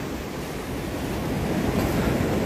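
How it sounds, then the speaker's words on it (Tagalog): Sea waves washing onto the shore at low tide, a steady rushing surf growing slightly louder, with wind buffeting the microphone and no voices. "at ang ating dagat ay low tide"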